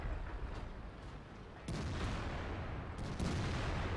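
A T-34-3 tank fires its main gun in World of Tanks, one sharp boom followed by a second blast a moment later amid low rumbling engine and battlefield noise.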